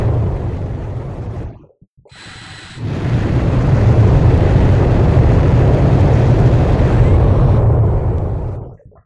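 Fighter jet taking off in Ace Combat 5: The Unsung War: a loud, steady engine roar that cuts out briefly near the start, then swells back and holds for several seconds before fading at the end.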